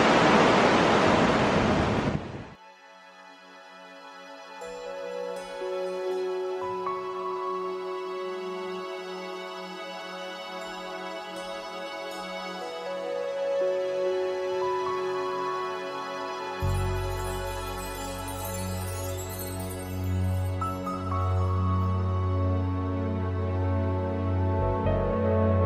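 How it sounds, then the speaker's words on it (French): Steady rushing water from a waterfall in Yosemite roars on, broad and continuous, with a deeper rumble swelling in partway through and no voices. "Là on est aux cascades."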